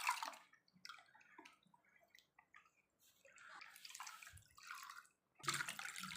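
Water poured into a wheat flour mixture in a vessel, irregular close splashing and trickling bursts with brief quiet gaps between them.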